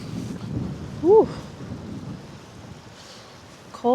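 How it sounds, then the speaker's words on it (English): Cold wind blows steadily by a river, a constant low rushing noise against the microphone, with a couple of brief higher squeaky sounds standing out over it. "Cold and windy."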